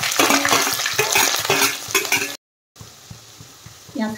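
Onions sizzle in hot oil with dried chili and five-spice seeds as part of an Assamese duck and ash gourd curry. There is steady, loud frying with scraping stir strokes, a brief dropout, then a softer sizzle afterward.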